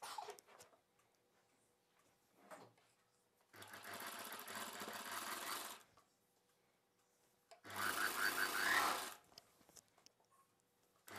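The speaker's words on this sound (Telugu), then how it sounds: "ఇప్పుడు నేనైతే ఈ చివరన అంచును కూడా ఫోల్డ్ చేసి కుట్టు వేసేస్తున్నాను" A sewing machine stitches a double-folded hem along the edge of a kids' summer cotton frock in two separate bursts of close, whirring stitching, with quiet pauses and faint handling sounds between them.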